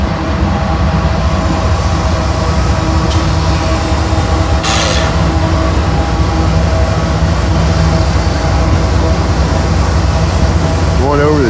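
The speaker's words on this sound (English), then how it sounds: "First train of the day coming across." A train rumbles steadily across a bridge over the Tennessee River in Chattanooga, a loud continuous roar of rolling wheels and engine drone heard close up, with a brief sharper burst partway through.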